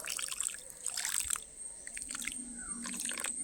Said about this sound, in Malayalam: എന്നിട്ട് അതിലേക്ക് ഒരു ഇച്ചിരി വെള്ളം ഒഴിച്ചു കൊടുക്കുക